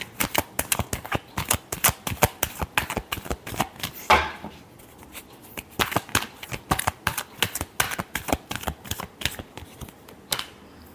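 Tarot cards are shuffled in rapid bursts of crisp riffling clicks, close and fairly loud. Brief pauses separate the bursts, with one louder flutter near the middle.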